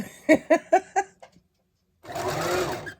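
A sewing machine stitching a face mask runs in four short bursts, each a quick rhythmic whir under foot control, then pauses and starts again in one longer steady run.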